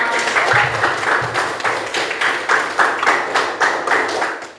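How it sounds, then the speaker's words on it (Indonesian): Audience applause in a classroom setting, rhythmic clapping in regular pulses that fills the whole stretch at close range, fairly loud and steady throughout. "tepuk tangan untuk kita semua"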